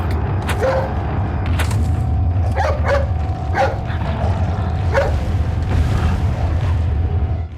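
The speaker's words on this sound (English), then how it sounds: "So you can actually wait for the dog to bark and distract him again." A dog barking in Resident Evil 4, a series of sharp barks at irregular intervals over a steady low rumble of game ambience.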